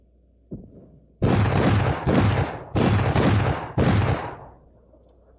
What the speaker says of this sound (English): I hear shots to your left also, which would be your west, I guess.